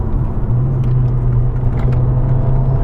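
Mk1 Ford Focus RS engine pulling under light throttle, a steady close-up low rumble and drone from inside the car that holds level throughout with no voices.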